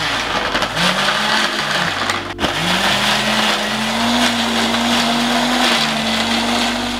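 A blender grinds a spice paste of shallots and garlic for brongkos, a Yogyakarta beef stew. It runs loud and close and steady, with a pitch that rises as the motor spins up and a short dip near the middle.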